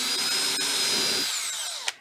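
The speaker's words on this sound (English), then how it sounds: "I'm going to drill them through the inside out." A power drill bores through a plastic lid with a steady, loud whirring grind that winds down toward the end, ending in a brief knock, with no voices.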